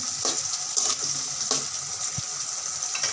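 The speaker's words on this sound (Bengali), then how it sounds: "হালকা ভাজা হবে, এটা হালকা ভাজা হবে।" Peeled mango pieces fry lightly in oil for pickle, making a loud, continuous bright sizzle with small pops and occasional scrapes, close and steady throughout.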